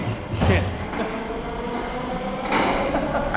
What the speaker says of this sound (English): First time taking the metro in Sofia.